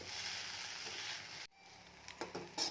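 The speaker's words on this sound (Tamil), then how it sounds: "இப்போ நம்ம கட் பண்ணி வச்ச ப்ரெட்டை ஆட் பண்ணிக்கலாம். சேர்த்து நல்லா மிக்ஸ் பண்ணி விடுங்க." Bread and egg for bread upma are stirred in a hot pan, giving a steady oil sizzle that briefly drops out and then returns with a few quick scraping and clattering stirs.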